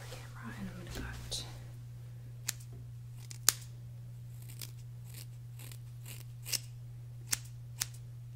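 Scissors cutting hair during a trim, a handful of sharp, isolated snips spaced a second or so apart over a quiet background with a steady low hum, plus faint soft speech at the start.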